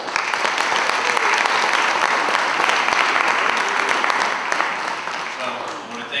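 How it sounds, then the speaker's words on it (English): Sustained applause from an audience at a high school honor induction ceremony, a dense, loud wash of clapping that holds steady for several seconds before tapering slightly. "really give a round of applause for our parents as well"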